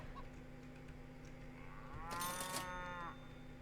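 A cow in a farm video game lets out a single long, clear moo over quiet game background hum, heard alone without talk.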